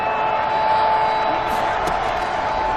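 A stadium crowd cheering in Madden NFL 21 during a Giants vs Jaguars game, a dense, loud, steady roar of fans that holds throughout, with a commentator talking over it.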